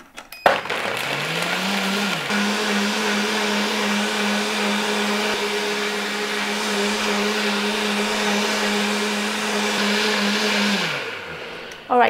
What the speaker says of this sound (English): if you've got a high power blender, then about 45-50 seconds is going to do for that